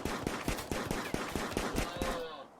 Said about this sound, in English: Hunting alpaca with a pistol.